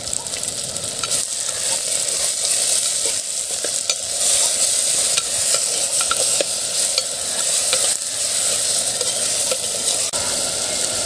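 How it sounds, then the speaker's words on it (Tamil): Onions and tomatoes sauté in a pan for a village-style dry fish curry, giving a steady close sizzle and frying hiss with repeated scraping stirs of a spoon throughout, no talk. "வெங்காயம் தக்காளி வதங்க வந்து தேவையான அளவு உப்பு போட்டுக்கலாம்."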